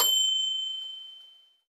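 A single bright bell ding used as a notification chime, a sharp metallic strike with a clear high ringing tone that decays smoothly over about a second and a half.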